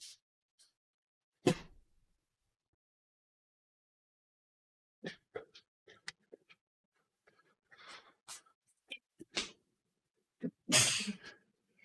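A single sharp sneeze bursts out early in near silence, followed later by scattered clicks, breaths and a couple of louder bursts.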